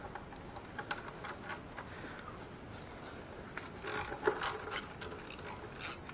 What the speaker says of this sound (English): We're actually going to use a ratchet wrench on that one.